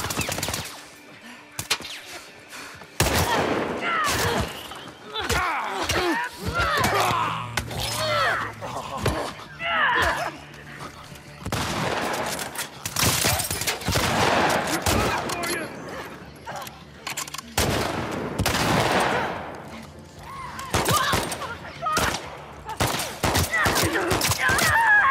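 Guns in The Last of Us Part II are fired until their clips are empty: repeated loud volleys and rapid bursts crack out in irregular clusters, separated by short pauses and mechanical clatter.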